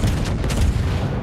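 An Italian battleship, the Conte di Cavour in World of Warships, fires its main guns in a salvo: a heavy, rumbling boom that fills the whole short moment with a deep, sustained low roar.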